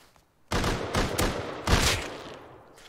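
A quick volley of gunshots in Rust, four or five sharp cracks in close succession, each trailing off into a fading echo after the last shot.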